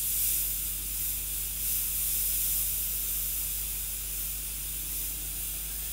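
An airbrush sprays paint in a continuous soft hiss that holds steady throughout, alone and fairly faint.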